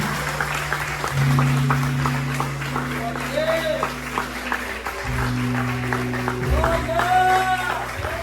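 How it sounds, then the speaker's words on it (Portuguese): A church congregation gives loud, sustained applause, a steady dense clapping wash with sustained tones, likely music, and voices heard throughout. "E você vai dar uma salva de palma bem forte. Pastor, vamos dar palmas, né?"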